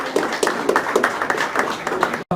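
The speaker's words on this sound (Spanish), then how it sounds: "Ponen los aplausos para él." An audience claps at a book presentation held in a school, with fairly loud, uneven clapping from a nearby crowd and a few distinct claps standing out, until it cuts off abruptly at the end.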